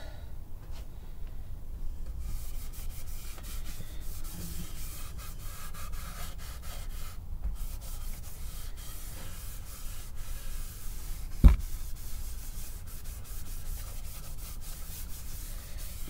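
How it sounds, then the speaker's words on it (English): A guitar's finish being polished out by hand: steady, soft rubbing continues close by with little change, broken once by a single sharp knock. "All we're doing is polishing it out."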